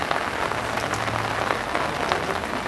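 Rain falling steadily outdoors, a dense close patter of drops hitting surfaces throughout, with no voices.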